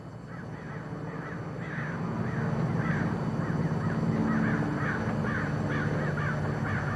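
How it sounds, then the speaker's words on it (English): Crows caw repeatedly outdoors near eucalyptus trees where they nest, a steady run of rhythmic caws at moderate distance over a low background rumble, with no one talking. "Crows. We have a lot of them out here. They like to nest in those eucalyptus trees over there. Nice sound, isn't it?"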